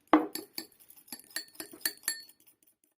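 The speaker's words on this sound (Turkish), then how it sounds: "Çok az bir sıvı yağ ile karıştırıyorum." Utensil clinking against a glass bowl while egg is whisked with a little oil for brushing börek, a quick run of about nine sharp taps, close and moderately loud, no talking.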